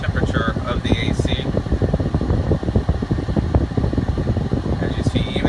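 A Jeep Cherokee's air conditioning blower runs at idle just after first startup on a hot day, a steady, fairly loud whooshing fan roar with faint engine hum beneath, continuous and unbroken throughout.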